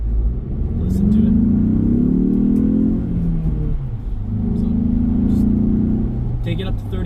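A 2.3 liter inline 4-cylinder Ford Bronco engine revs up to about 3,500 RPM and settles twice, a steady rising and falling drone with a low rumble underneath, close by.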